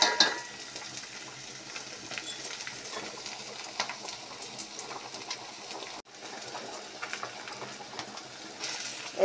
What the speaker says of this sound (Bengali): এখানে মাছগুলি আর পেঁয়াজ সব মশলা ভালো করে ভাজা হচ্ছে।